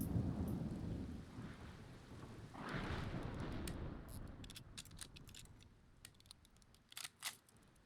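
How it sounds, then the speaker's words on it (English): A stormy spell in Xenoblade Chronicles 2: a low rumbling roll of thunder over steady rain fills the scene, swelling midway, then thinning into a patter with a few sharp clicks and taps near the end. "Suddenly it's all dark and stormy."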